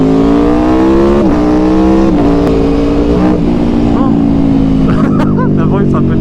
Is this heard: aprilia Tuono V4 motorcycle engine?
yes